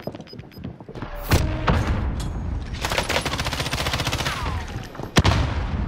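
Video game Call of Duty: a grenade is thrown and a dense flurry of rapid gunfire erupts, loud and close, with sharp cracks and a heavy thump near the end.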